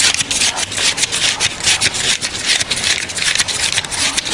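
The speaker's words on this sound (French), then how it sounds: "Ce bruit des billets que compte Alexandre dans le bureau voisin le confirme" Banknotes being counted by hand in a neighbouring office, a steady rapid papery riffling and flicking that continues evenly throughout, fairly close and with no talking.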